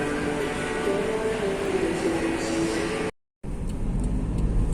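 Steady in-car road rumble while driving home through Malaysia after leaving a Sunway parking area, a continuous engine and tyre drone with a brief dropout near the end.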